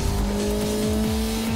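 A racing car's tires squeal and spin in the arcade racer Ridge Racer Unbounded, a loud sustained screech over a droning engine as the car slides.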